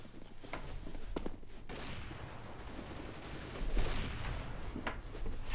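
Automatic rifle spray in CS:GO, with dense overlapping gunfire bursts that run almost without a break, mixed with busy game noise at a steady, fairly loud level.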